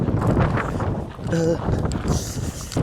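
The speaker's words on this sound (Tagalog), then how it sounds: "Sobrang hangin dito." Strong wind near the Golden Gate Bridge in San Francisco buffets the microphone in a steady roar throughout, with a brief tonal sound in the middle.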